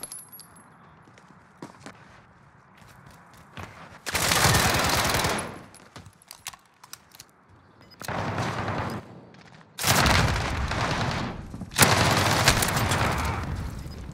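Bursts of automatic gunfire in a video game gunfight, with long loud sprays at several points between quieter stretches of scattered shots and footsteps; no talking.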